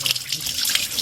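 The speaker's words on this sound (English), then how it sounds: "That's cold water. It's refreshing water." Cold mountain water pouring from a tap, a close, continuous splashing gush with no voices.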